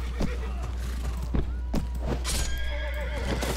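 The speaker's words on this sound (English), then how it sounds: "Oh god, my horse is so hurt," An injured horse in the video game Mount and Blade neighs and gallops, with clip-clop hoofbeats and whinnies amid battle noise, fairly loud and continuous, with a voice talking over it.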